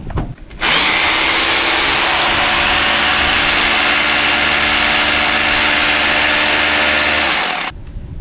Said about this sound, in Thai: นี้เป็นสว่านโรตารี่ของพับคินนะครับ